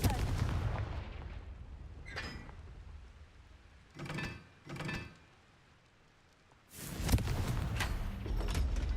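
Explosive spell bursts in the Hogwarts Legacy game: several muffled booming blasts with rushing tails, the last one louder and longer, rising out of quiet background ambience.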